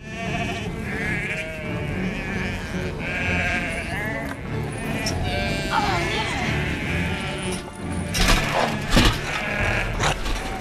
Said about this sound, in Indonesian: Tapi, sayangnya mereka malah dikejar oleh puluhan domba zombie.